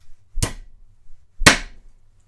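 A Vanquish 11 oz titanium framing hammer strikes twice, two crisp, close impacts about a second apart with quiet between them.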